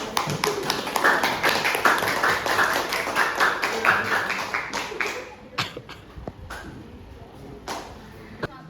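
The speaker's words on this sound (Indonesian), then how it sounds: "Tepuk tangan, guys." A classroom group claps for a student about to present in a math lesson, a dense run of hand claps that thins out into a few scattered claps near the end.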